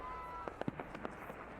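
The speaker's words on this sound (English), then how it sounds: "Oh, this is a fireworks show in Odaiba?" Fireworks bursting at a show in Odaiba, heard as a string of sharp distant pops and crackles over a steady background hum.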